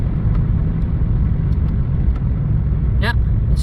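A 2006 Toyota Yaris on the move, its engine and road rumble droning steadily and close inside the cabin, with a brief higher whine near the end.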